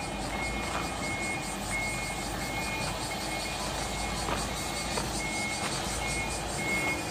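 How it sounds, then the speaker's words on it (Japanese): A ten-ton truck backs up at a trucking yard, its reversing alarm beeping in a steady repeating pattern over a low engine rumble and distant traffic. "どうやらどこかへバックするようですね。"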